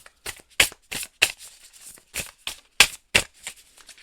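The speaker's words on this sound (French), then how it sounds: "On va tirer 3 cartes." Tarot cards being shuffled and drawn, a series of crisp, riffling flicks and slaps close by, coming in quick irregular bursts with short pauses between them and no talking.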